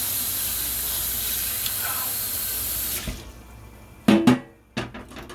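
Water runs from a kitchen tap into a sink as something is rinsed, a steady hiss for about three seconds before the flow shuts off, followed by a few short clattering knocks.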